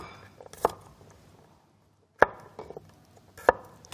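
A knife chops garlic on a cutting board in three sharp, separate strikes with quiet gaps between them, close and clear in an otherwise quiet kitchen.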